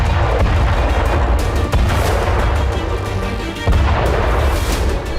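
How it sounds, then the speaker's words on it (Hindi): Israeli air strikes hit Hamas Nakba Force sites and bring down buildings. Heavy, closely spaced booms and blasts crash one after another in a loud, continuous barrage. "फिर हवाई हमला शुरू किया गया"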